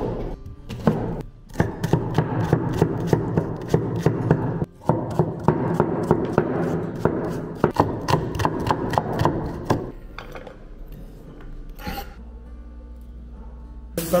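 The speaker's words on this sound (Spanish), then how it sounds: "ahora vamos a cortar la cebolla" A knife chops an onion on a cutting board with a rapid, steady run of close, crisp strikes. The strikes thin out to a few scattered taps near the end.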